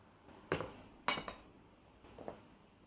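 Tomato, cucumber, carrot rounds and onion for a salad tossed together in a bowl, giving a few soft separate clinks and scrapes of utensils against the dish with quiet gaps between them.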